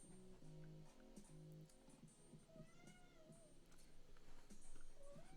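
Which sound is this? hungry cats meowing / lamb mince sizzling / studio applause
hungry cats meowing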